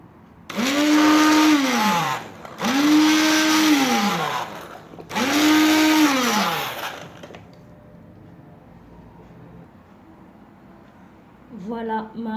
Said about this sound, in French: Maintenant, on va prendre le mixeur, on va mixer.